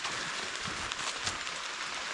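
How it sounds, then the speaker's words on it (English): Heavy rain pouring onto forest trees on a backpacking trail, a dense, steady hiss of drops with no pauses, loud and close, no voices. "It is raining. like raining pretty good."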